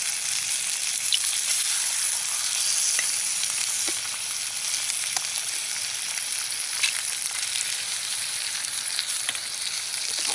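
Eggs sizzle and fry steadily in a hot pan over a campfire in a winter camp, a continuous crackling hiss with small pops, fairly close, with no talking.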